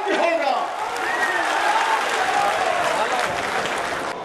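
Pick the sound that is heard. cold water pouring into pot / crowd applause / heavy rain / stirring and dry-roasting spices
crowd applause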